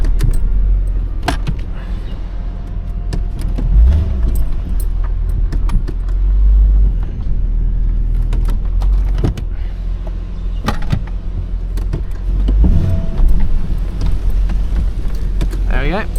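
A 4WD vehicle grinds along a rough bush track on a wallaby hunt, its engine a steady low rumble with repeated knocks and rattles from the bumpy ground, while someone talks over it.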